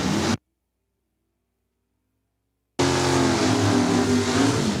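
A race car engine roars loud and close in a short burst, cuts to silence, then comes back as a sustained, rumbling rev at a drag racing event.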